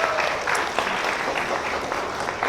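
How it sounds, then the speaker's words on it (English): Audience applause at a campaign event for the Malaysia Pavilion at Expo 2020 Dubai, a dense, steady wash of many hands clapping close by for the whole stretch, with no talk over it. "Can we give them a round of applause?"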